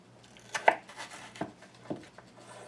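A knife chops through a raw potato cut into fries on a board, a few sharp separate thunks spaced irregularly, close and clear with no talk.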